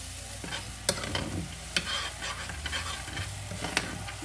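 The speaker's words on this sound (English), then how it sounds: "just let it simmer a little bit on the heat" Fish in soy sauce simmering in a pan over low heat, a close, steady sizzle and bubble with regular stirring scrapes and occasional sharp utensil taps against the pan, no talking.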